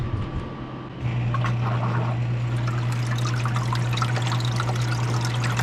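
Water pours and trickles steadily inside an Anbull commercial ice machine, a continuous splashing flow over a low, constant hum from the running machine.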